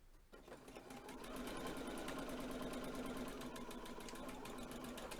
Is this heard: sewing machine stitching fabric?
yes